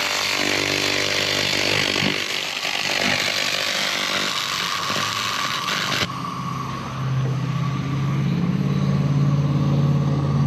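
Laser cleaning machine working over a weathered, dirty aluminum surface, giving a steady loud buzzing hiss that runs continuously, shifting to a lower, smoother drone partway through as the surface clears.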